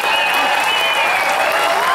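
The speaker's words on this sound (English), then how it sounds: "One more round of applause for Stabschmuschikmeister Michael Jonar." Steady, dense audience applause fills a concert hall after a military band performance by a Marine Corps aircraft wing band, loud and continuous throughout with no pauses.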